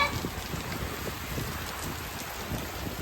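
Steady rain falls during a storm that is starting to ease, a dense continuous wash of patter with soft low drumming on surfaces, fairly close and even throughout with no voices.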